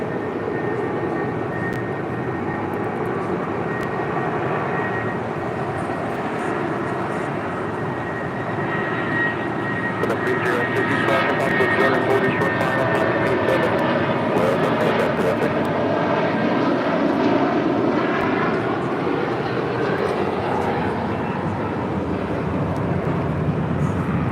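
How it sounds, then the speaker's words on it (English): A United Airlines Boeing 757-200 roars through its takeoff roll bound for Boston, a loud, sustained broadband jet rumble with whining engine tones swelling steadily and growing harsher toward the end. "This is United Airlines 2609 taking off to Boston on a 757-200."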